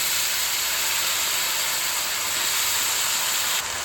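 Brinjal pieces dropped into hot oil already seasoned with curry leaves and turmeric give off a steady, loud sizzle that holds evenly throughout with no talking.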